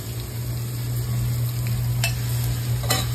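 Fish fries in a pan with a constant crackling sizzle over a low electrical hum, broken by a couple of brief utensil taps near the end.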